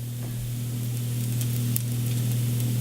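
Apple pancakes sizzle steadily in a hot pan, a constant close frying hiss with an underlying hum and occasional small pops, no talking.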